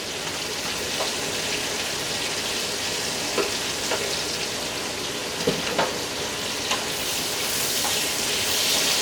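Paprika chicken and rice mixture stirred in a frying pan: continuous close sizzling with scattered scraping and clinking strokes as the spoon moves through the pan.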